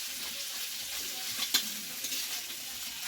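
Vegetables frying and being stirred in a wok with an iron spatula, a soft continuous sizzle with a brief metallic scrape of the spatula partway through, close and fairly quiet, no talk.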